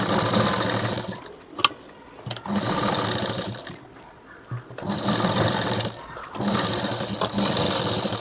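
A sewing machine stitches a small child's blouse in fast, steady bursts of rapid mechanical whirring and needle clatter, each run lasting a couple of seconds and broken by brief pauses, close and alone without talk.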